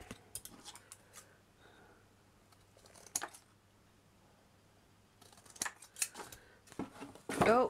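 Scissors cutting a small oddment of material while making a miniature Romany Gypsy caravan, quiet snips and handling noises in irregular bursts, ending with a louder rustle.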